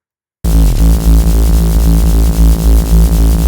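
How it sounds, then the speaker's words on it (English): A tape stop effect drags the pitch of a drum and bass drop sharply downward right after the first kick, then heavy, throbbing bass and drums pound loudly and steadily until a sudden cut. "There's a plugin called Tape Stop."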